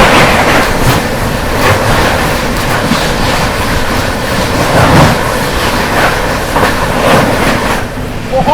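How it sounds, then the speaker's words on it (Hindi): Two Shiv Ganga Express trains on the Banaras–New Delhi line cross at speed, giving a loud, steady rush of wheels and rail rumble with rhythmic clatter that fades slightly near the end. "ओहो, शिवगंगा वर्सेस शिवगंगा एक साथ क्रॉसिंग होती हुई।"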